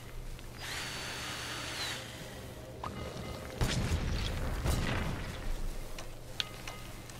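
A cordless drill whirring in the Lego Marvel Super Heroes video game, a steady whine followed by heavy crashing impacts and clattering game effects.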